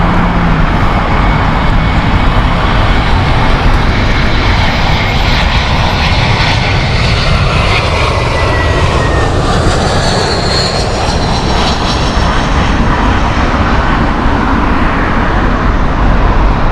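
Aircraft engine roar from a plane at Heathrow Airport, a loud, steady broadband drone filling the whole stretch with no talk over it.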